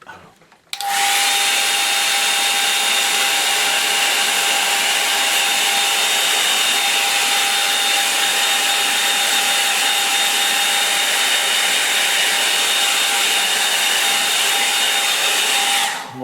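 A hair dryer drying a watercolour painting runs loud and steady for about fifteen seconds after a brief click at the start, a constant airy roar with a high whine, no talking.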